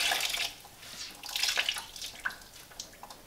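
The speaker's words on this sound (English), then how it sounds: "I'm going to take a rag that's just an old rag in water" An old rag dipped and sloshed in water for distressing a weathered patina finish, giving soft splashy trickles and drips that rise and fall across a few seconds, close and moderately quiet with no talking.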